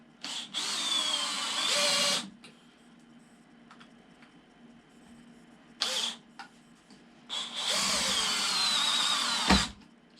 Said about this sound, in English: We've just got the two screws to drop in.